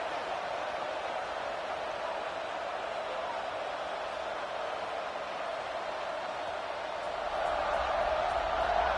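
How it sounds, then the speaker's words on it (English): A crowd of football fans in a stadium makes a steady, distant, wash-like buzz that holds evenly throughout and swells slightly near the end. "this crowd is buzzing after that last score"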